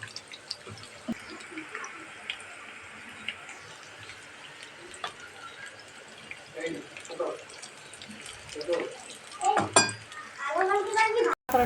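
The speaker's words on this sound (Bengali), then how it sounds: "পাকোড়াটা আমি ভেজে নিচ্ছি চুলার আঁচটা মিডিয়ামে রেখে" Cauliflower pakora frying in hot oil on medium heat gives a soft, steady sizzle with scattered pops and a few clinks of utensils, while a person talks over it throughout.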